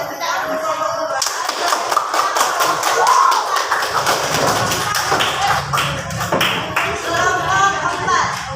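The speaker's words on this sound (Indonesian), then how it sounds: "Kasih tepuk tangan untuk kelompok kedua" Classroom audience clapping for the second group of students, a string of uneven, close hand claps and taps that run for several seconds with voices mixed in beneath.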